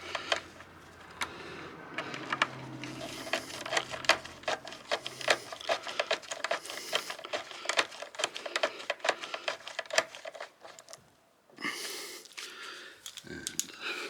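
Bolts threaded back in on a Kawasaki Vulcan S motorcycle during an LED light install: quick, close, irregular clicking and ratcheting in rapid bursts, with a brief pause near the end before the clicks resume.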